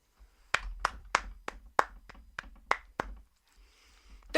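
A single person claps about a dozen times at a steady pace, each clap sharp and close in a quiet room, then stops.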